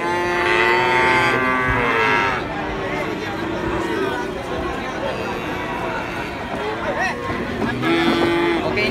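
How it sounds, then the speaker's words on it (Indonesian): Loud Simmental cattle moos ring out repeatedly, long drawn calls from several animals close by, with people chattering in the background. "Oke, ini ada sapi simental"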